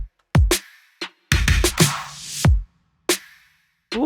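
Chopped drum sample for a K-pop flavored R&B beat: a short sparse pattern of punchy kicks and sharp snare or clap hits with a brief washy fill, heard alone and loud.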